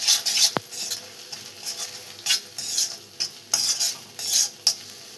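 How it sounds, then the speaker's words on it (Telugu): Beetroot curry with ground masala stirred in a pan, a spoon scraping and clinking in irregular strokes over a light sizzle, close and fairly loud, no speech. "తిరువాతలో మనం పట్టి పెట్టుకున్న మసాలా అయితే వేసేస్తున్నాము. ఇలాగ లైట్గా కలిపేస్తున్నాము."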